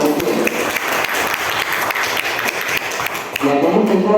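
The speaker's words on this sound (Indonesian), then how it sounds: "Beri tepuk tangan dulu untuk regu C" A crowd at a school quiz semifinal claps for a team, loud sustained applause filling the room, with a voice speaking over it near the end.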